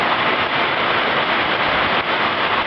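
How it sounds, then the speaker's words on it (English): A heavy storm downpour with hail in Mapleton, Iowa roars as a dense, steady hiss of rain hammering surfaces outdoors, loud and unbroken. "They're very quick little downpour waves, but that one had hail in it"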